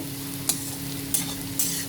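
Potato slices fry in a pan with salt and Kashmiri chili powder. Steady sizzling runs throughout, with three sharp scraping strokes as a spatula stirs them, and no voices.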